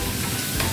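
Carrot and onion fry in oil in a pan, producing a loud, continuous close-up sizzle with no talking over it.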